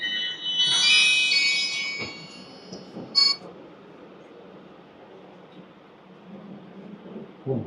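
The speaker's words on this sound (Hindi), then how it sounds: "फोन।" A mobile phone ringtone goes off briefly during a spiritual talk, a short bright electronic tone burst near the start that fades into low room noise.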